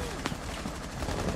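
Dense gunfire in a Rainbow Six Siege match, with overlapping shots and bursts in a continuous, loud fusillade and no talk over it.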